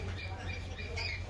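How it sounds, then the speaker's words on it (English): Lorikeets at the Wild Florida wildlife park squawk in a dense, continuous chatter of harsh calls, mixed with a little background voice and steady low rumble. "And these are lorikeets."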